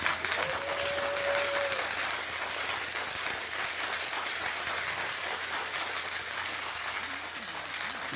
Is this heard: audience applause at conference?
yes